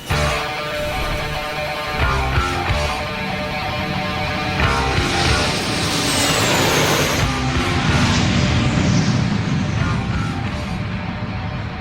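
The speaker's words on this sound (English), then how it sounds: "I've done plenty of takeoffs in Boeing 757s, but this particular one was rather special." A Boeing 757 airliner takes off, its jet engines building into a loud, steady roar that swells and rises in pitch as the aircraft accelerates, with faint tones and chatter beneath.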